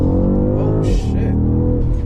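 BMW M550i V8 engine revving hard with a throttle response booster at its highest setting, a loud, deep, rising roar that briefly dips and surges again, with a voice exclaiming over it.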